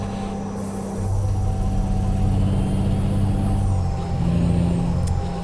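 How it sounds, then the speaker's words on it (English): A Freightliner Classic truck engine in American Truck Simulator rumbles steadily at close range, with a low droning tone and a hiss of air brakes, no voices present. "the truck probably sounds pretty good because of the sound pack that's in it"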